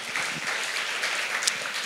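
A church congregation applauds together at a youth camp service, a steady, dense wash of clapping that holds evenly throughout without any voices standing out.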